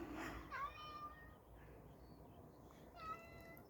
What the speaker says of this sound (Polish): O, mój kotek mnie usłyszał i mnie woła.